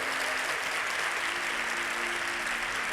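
A church congregation applauds during a sermon, with dense, continuous clapping from many hands at an even level throughout, and no other sound standing out.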